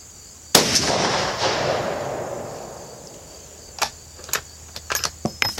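A single sharp rifle shot from a .450 Bushmaster firing Winchester ammunition over a chronograph outdoors, with a long decaying echo, followed by several quieter clicks and rattles.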